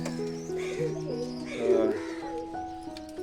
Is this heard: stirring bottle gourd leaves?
no